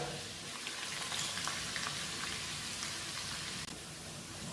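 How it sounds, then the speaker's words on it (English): Ginger and garlic paste with cumin and cardamom frying in oil for chicken liver masala, a soft, even crackling sizzle like light rain, steady and close with no voices. "put them in, give it a bit of a mix and let them go a nice golden brown, the ginger and garlic paste"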